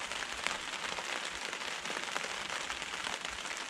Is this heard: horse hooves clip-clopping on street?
no